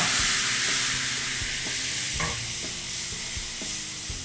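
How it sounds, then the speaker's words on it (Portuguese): Bacon and onion sizzle loudly in a hot pan while being stirred for penne alla vodka, a steady broadband frying hiss with scraping stir strokes and a sharp burst as vodka hits the pan to deglaze. "Já adorou aqui meu bacon, minha cebola, então vamos deglaçar aqui com a vodka."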